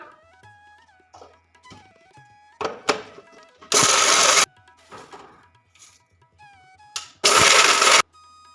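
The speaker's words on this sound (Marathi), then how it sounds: "मिक्सरला बारीक पूड करून घेते ह्याची पण" Mixer grinder grinding puffed rice into fine powder, heard as two loud, steady bursts of whirring motor noise lasting under a second each, separated by quieter clinks and handling sounds.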